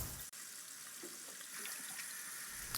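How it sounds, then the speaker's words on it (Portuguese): Steady broadband rush of water pouring from a kitchen tap, continuous and fairly close, with a brief break near the start and no voices. "Fecha a torneira, Skyler."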